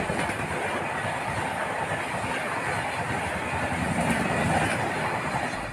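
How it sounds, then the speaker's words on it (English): Coromandel Express passenger train pulling out of Balasore railway station, a steady, continuous rumble of rolling wheels and carriages with faint clatter, no voices. "Coromandel Express leaving the Balasore railway station."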